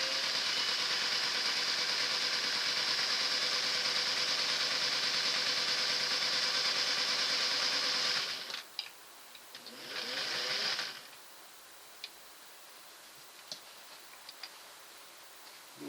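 An all-metal 1960s Singer Model 603 sewing machine with steel gears runs in a steady high whirring drone for about eight seconds. It stops, gives a short second burst, then falls to quiet with a few scattered clicks.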